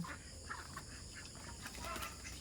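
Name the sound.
egg-laying ducks on a farm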